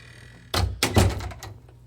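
A hotel room front door swings shut, a couple of solid thunks as it closes and latches, close by over a quiet hum of room tone.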